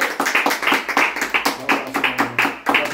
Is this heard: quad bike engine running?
no